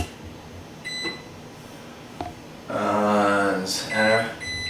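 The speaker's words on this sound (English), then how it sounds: "We got 2 pizzas in there, so let me set the timer here." Several short electronic beeps from an oven timer being set for two pizzas, with a talking voice in between and a louder stretch of speech toward the end.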